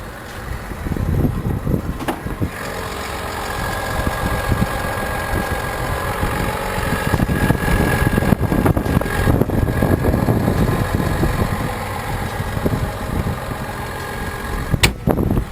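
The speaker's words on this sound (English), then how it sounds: "it's a 2020 GMC Sierra Denali 1500 with the Duramax diesel engine" A 2020 GMC Sierra Denali 1500 pickup with the Duramax diesel engine idles steadily up close in the engine bay, a continuous low diesel rumble with a faint knocking texture and a few brief clicks, no talking.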